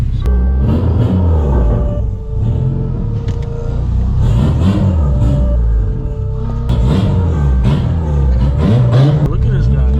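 A boosted Honda Civic engine revs and accelerates hard at full boost, a loud close rumbling drone rising and falling in pitch with gear changes, someone talking over it.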